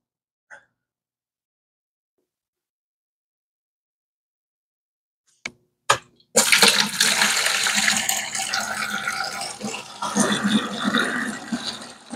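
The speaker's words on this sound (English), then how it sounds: "we're going to put some water in the bucket" Water rushes into a bucket for a shrimp tank water change: a steady, fairly loud splashing fill that keeps going after a few sharp knocks and clicks, with no talking.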